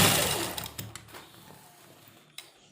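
A sewing machine runs a half-inch seam joining the shoulder pieces of a kurta, a quick whirring burst that starts close and loud, then fades to a faint mechanical hum with a few soft clicks.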